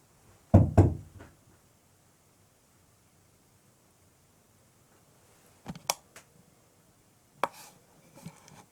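A few dull knocks on wood inside an abandoned farm building, a sharp double knock early, then a long quiet pause and several softer, scattered knocks near the end, close and isolated in a hushed room.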